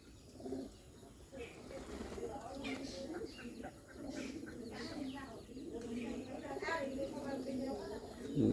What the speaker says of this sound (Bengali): ডাকাডাকি করতেছে কবুতরে,